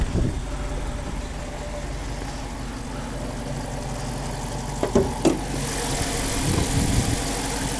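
A 2018 Dodge Challenger Shaker with the 5.7 V8 idles steadily and loudly close by, a deep, even rumble with a couple of brief clicks partway through.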